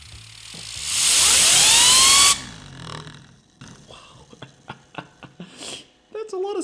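A 3D-printed resin turbine on a PLA support spins up on compressed air with a loud, steady rushing hiss and a rising whine that cuts off abruptly, followed by quieter clicks and rattles.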